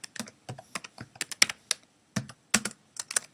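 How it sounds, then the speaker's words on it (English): Someone types on a computer keyboard up close, tapping out short irregular runs of crisp clicks with small gaps between bursts, with no voices over it. "Type in the date"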